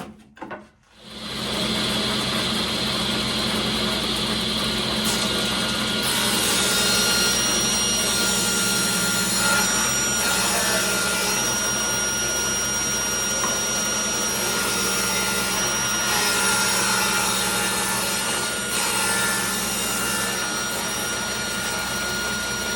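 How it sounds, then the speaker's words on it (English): A power saw rips wood boards into 1.5-inch strips for a picture frame, starting after a brief pause and then running as a loud, steady whine and cutting roar for about twenty seconds. "I'm going to rip them down to the width that I want the individual strips for the 4 sides of the frame"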